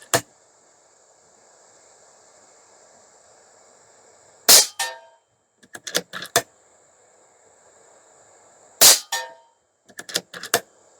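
A .30 caliber Airmaks Arms Krait PRO air rifle fires slugs at a target outdoors, two sharp loud shots a few seconds apart, each followed by clattering mechanical action sounds, with a steady faint tone in the background.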